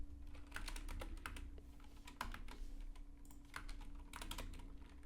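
Python code being typed on a computer keyboard: quiet, close, irregular clicking keystrokes in short bursts over a faint steady hum.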